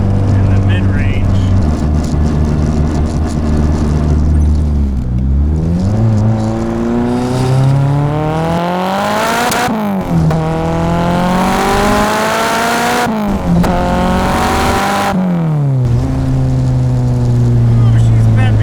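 Straight-piped Honda K24 engine swapped into a Nissan Cefiro, turbocharged, revving hard and loud in repeated rising pulls with gear-like drops, the exhaust note filling the whole stretch with no pauses.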